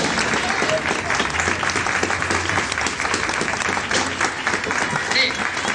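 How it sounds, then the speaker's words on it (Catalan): Loud, sustained applause from a large theatre audience at the end of a show, steady clapping throughout with voices mixed in. "demano un fort aplaudiment"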